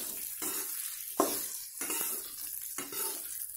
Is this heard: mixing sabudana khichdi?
yes